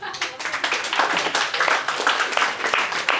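Audience clapping at a stage show after a guest receives a book, a short burst of uneven hand claps of moderate loudness with some talk mixed in.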